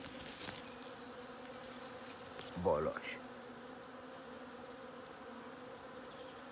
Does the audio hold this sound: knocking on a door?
no